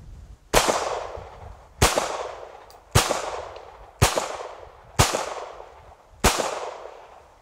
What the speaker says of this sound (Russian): Предстоит стрелять серию от 2 до 6 выстрелов.